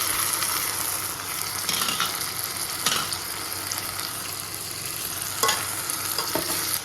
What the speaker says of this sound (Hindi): तो यहाँ पे मैं हरी मिर्च और प्याज भी डाल के भून रही हूँ।